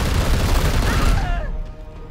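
Dense gunfire from Warhammer 40k Chaos Gate Daemonhunters, a loud continuous burst of shots with rumbling booms that tails off after about a second and a half.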